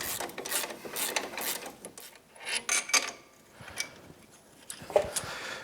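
A wrench works the lower shock mount nuts, 14 mm and 17 mm, on a Yamaha YXZ1000 side-by-side, giving close, quiet bursts of ratcheting clicks and metallic ticks with short pauses between them.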